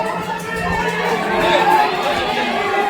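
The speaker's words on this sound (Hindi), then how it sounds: "अभी यात्री बहुत ज़्यादा भीड़ हो गई है" A large crowd of pilgrims on the Vaishno Devi trek fills the air with dense, continuous chatter, many overlapping voices blending into a steady murmur.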